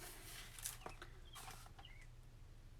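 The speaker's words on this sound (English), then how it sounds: "I'm hearing the birds." Faint outdoor birdsong, a few distant chirps and short calls, over a quiet steady background hum.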